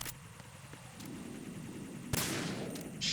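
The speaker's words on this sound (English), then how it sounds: "I need to shoot the camera out." Gunfire in Metal Gear Solid 2: Sons of Liberty as the player shoots out a security camera, with a sharp shot near the middle followed by a noisy burst and a second hit at the end over steady game ambience.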